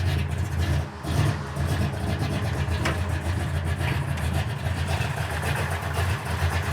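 A 1969 Chevrolet Camaro V8 with headers and an Edelbrock intake idles, giving a steady, close, deep rumble that holds an even level throughout with no talk over it.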